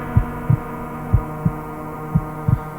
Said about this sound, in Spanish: cada uno podrá escuchar el latido de su propio corazón como un tambor de guerra